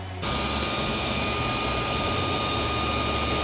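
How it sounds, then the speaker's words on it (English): A laser engraver's exhaust fan switches on abruptly and roars steadily, a loud broadband whoosh with a constant tonal hum, close and unbroken. "I got to turn this exhaust fan on"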